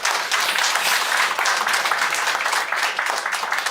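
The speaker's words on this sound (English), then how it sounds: "A round of applause to Ilya." A room of attendees at a digital identity wallet presentation gives a short round of applause, bright rapid clapping at close range that stays even for a few seconds.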